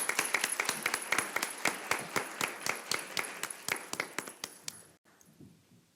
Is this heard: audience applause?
yes